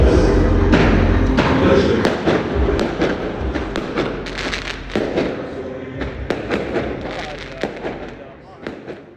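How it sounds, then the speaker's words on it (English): Fireworks celebrations in Homs, Syria, marking a year since the fall of Bashar al-Assad: dense, repeated booms, thumps and sharp cracks burst continuously, with crowd noise and a voice underneath. "these were the fireworks celebrations a year on in Homs yesterday"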